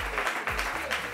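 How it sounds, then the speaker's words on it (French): Studio audience applause on a French evening television show, a brief burst of dense clapping heard close and steady. "On applaudit, s'il vous plaît."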